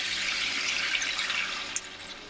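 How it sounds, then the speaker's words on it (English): Water pours steadily into a pan of frying bell peppers, making a continuous hissing splash that stays fairly even before easing slightly near the end. "I'm going to pour some water, not too much."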